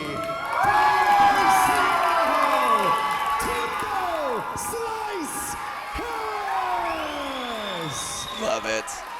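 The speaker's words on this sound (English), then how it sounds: "Crowd is going crazy." The crowd at an amateur submission grappling event cheers and whoops loudly and continuously, with shouts and whistles rising over a sustained roar and voices mixed throughout.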